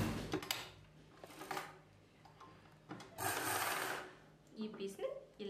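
A sewing machine stitching a collar piece onto a blouse, with short bursts of mechanical whirring and rubbing fabric noises close by, broken by pauses and quiet handling sounds.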